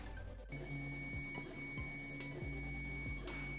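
A 3D printer running up close gives off a faint, steady hum of fine mechanical vibration, with short tonal chirps recurring every half second or so over a low motor drone.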